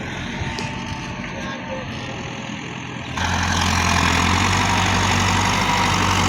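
Massey Ferguson tractors, including an MF 240, working a field with a cultivator, a low steady diesel drone that jumps louder and closer partway through, with talk over the engine noise.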